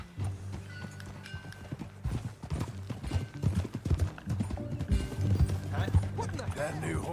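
Horse hooves clip-clop steadily in Red Dead Redemption 2 during a ride, a rhythmic trotting beat under a low rumble and muffled voices talking.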